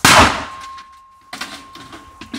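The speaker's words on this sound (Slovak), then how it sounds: "Ďalej si ideme odpáliť petardu Dumbum 5G Gold, takže je najlepšia verzia a dáme si ju sem na bok bubna." Dumbum 5G Gold firecracker blasting against the side of a washing machine drum: one loud, close explosion, then a long steady metallic ring from the drum, followed by softer clatter.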